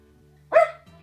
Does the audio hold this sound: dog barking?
yes